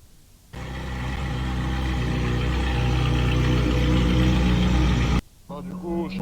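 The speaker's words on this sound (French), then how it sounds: "Un V8 Atmo qui fait un bruit de F1 comme ça" A naturally aspirated Ferrari V8 bursts into a loud, steady roar that climbs slowly for several seconds and then cuts off abruptly. A quieter engine note and a brief voice follow.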